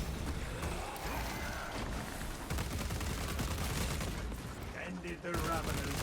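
Rapid bursts of video game gunfire shooting an enemy out of the sky, a dense, continuous crackle of shots that stays loud throughout, with a voice talking over it.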